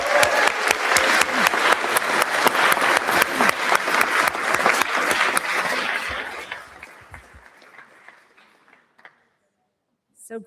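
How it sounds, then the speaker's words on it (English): Audience applause for graduates at a university graduation celebration, loud dense clapping for about six seconds that then thins out and fades to silence, with a faint sound at the very end. "Let's give another round of applause to all of our graduates."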